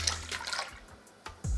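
Water pours briefly into a bowl of milk for pancake batter, a short splashing trickle that fades and then ends in a soft thud.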